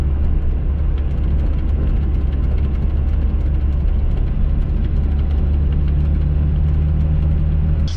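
A stock Mazda Miata on a short drive, its engine a steady close rumble with road and wind noise throughout and a faint tonal whine joining later, no speech.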